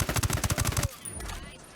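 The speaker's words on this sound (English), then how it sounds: "I'm opening fire." Rapid automatic gunfire in the video game Ghost Recon Wildlands: a loud burst of about ten evenly spaced shots that stops abruptly, followed by quieter ambient game sound.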